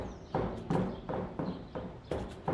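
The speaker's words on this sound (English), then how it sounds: "I still don't like how there's 2 footsteps when he's moving. Yeah, we hear both of them." An enemy character's footsteps in a video game's footstep system: a close, even series of about six heavy, hollow steps at a walking pace, each step seeming doubled, with no voice over them.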